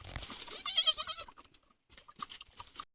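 Goats bleat in short wavering cries near a farm rope tether, with one loud quavering call followed by a few fainter bleats and brief pauses.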